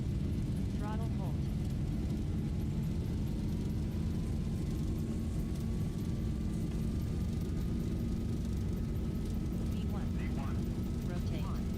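Airliner jet engines at takeoff thrust in a Zibo mod Boeing 737 flight simulator, a steady loud broadband roar with low rumble and a faint rising whine, continuous throughout, with brief cockpit chimes or tones.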